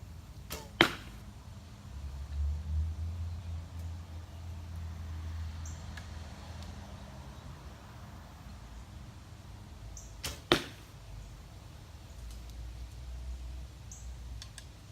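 Arrows loosed from a handmade bow land with two sharp cracking impacts several seconds apart, each a short loud snap over a quiet outdoor background with faint low rumble and no talking.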